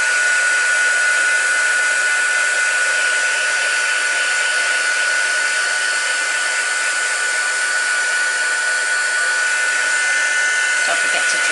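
A heat tool blows steadily and loudly throughout, a continuous airy whir used to dry and set ink on a faux leather card, with no pauses and no talk over it.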